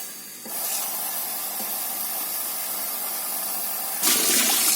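Water gushes steadily from a newly repaired household faucet, cleared of black sediment, a continuous hissing rush after a short quieter start that swells louder near the end.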